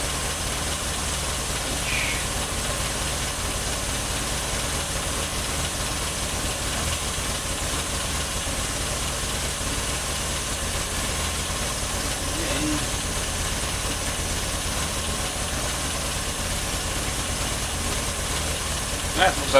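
A 1969 Triumph Spitfire Mk3 engine idles steadily after being revved to about 3,000 RPM, a continuous low, even running note close by with no speech over it.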